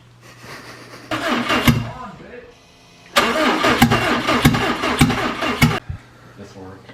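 A Subaru engine cranking on starting fluid while sputtering and failing to catch, heard in two long bursts of cranking with a pause between, close and loud, with people talking around it.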